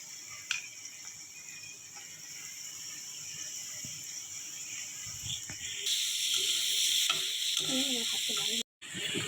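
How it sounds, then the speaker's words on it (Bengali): Chopped onion dropped into hot oil in a wok, a steady bright sizzle that swells louder midway, with a few faint clinks and no talking. "পেঁয়াজ কুচি দিয়ে দেবে"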